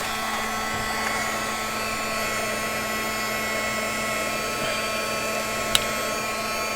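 Heat gun blowing hot air from a distance onto plastic packaging gives a steady, even whoosh with a high whine, continuous throughout with one faint click near the end.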